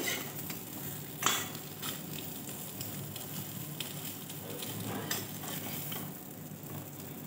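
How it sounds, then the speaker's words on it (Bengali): Brinjal fries in a covered pan with a continuous low sizzle and hiss, broken by a couple of faint utensil taps, steady and close, with no one speaking. "দেখো আমার 4টেই বেগুন কত সুন্দরভাবে ভাজা হয়ে গেছে"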